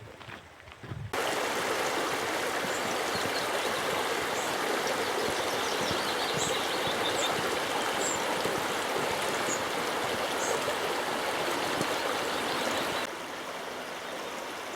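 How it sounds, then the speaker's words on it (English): The Water of Nevis in Glen Nevis, Scotland, rushes loudly and continuously over rocks, a dense steady roar that cuts in sharply after a second and holds nearly to the end. "beautiful, soothing, rushing water sound"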